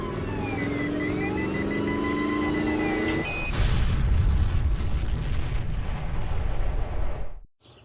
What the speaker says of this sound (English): The Starship City perimeter has been armed with landmines. Your vehicle will be destroyed.